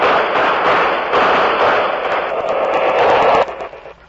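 Loud, dense burst of gunfire rattling continuously for several seconds, then cutting off abruptly and fading.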